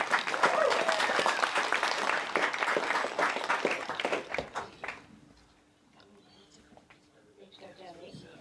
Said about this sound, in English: A big round of applause for the mother of the bride, Rosemary.